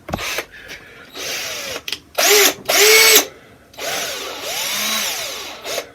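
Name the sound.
power drill drilling pilot hole for anchor stake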